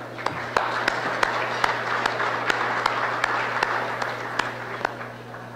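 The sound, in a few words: audience applause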